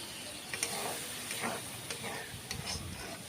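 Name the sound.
spice paste (masala) sizzling and being stir-fried in a pan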